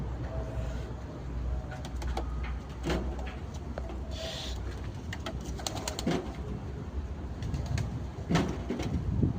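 Central Javan doves cooing, with repeated soft coos amid steady background noise, occasional sharp clicks and faint voices nearby.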